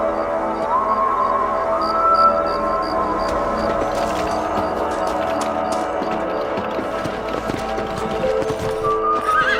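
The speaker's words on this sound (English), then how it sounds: "Let's get back on the horses and see what else is going on." Horses in Red Dead Redemption whinny loudly over a steady clatter of hooves, with rustling movement and a rising whinny near the end.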